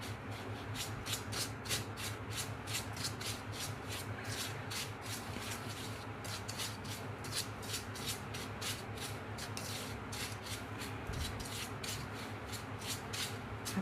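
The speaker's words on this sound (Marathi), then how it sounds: "आता हे सर्व मिश्रण एकत्र करून घेऊ." Dry semolina stirred together with fish fry masala, turmeric, salt and red chilli powder, a soft continuous gritty rubbing and scraping in quick rhythmic strokes, close and quiet with no talk.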